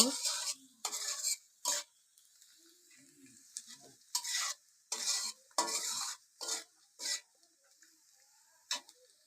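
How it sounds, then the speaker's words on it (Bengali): Spice paste with small fish and brinjal being fried and stirred in a pan: a series of separate, close scraping strokes with sizzling, each lasting under a second and separated by quiet gaps. "পেস্ট একটু ভালোভাবে ভাজা নিব পেস্টটা ভাজা নিয়ে তারপরে ছোটো মাছ আর বেগুন একসাথে মশলা দিয়ে মেখে নিল"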